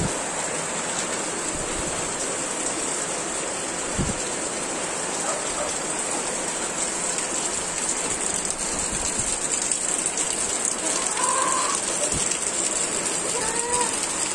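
Steady rain falling on a farm in the Philippine countryside during duck egg harvesting, a dense even patter with a faint drip or thud here and there, continuous and moderately loud.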